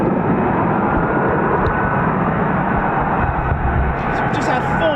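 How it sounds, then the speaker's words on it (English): Lockheed Martin F-35B stealth fighter jets taxi at an air station, their engines producing a loud, continuous roaring whine that fills the whole clip, with no speech. "So we just had 4 F-35s depart, now we've got another 2 taxiing"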